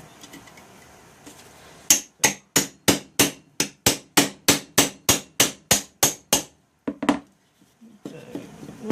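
A rapid series of about fifteen sharp, ringing hammer blows on a hard object, evenly spaced and loud, followed by one last strike and quieter shuffling.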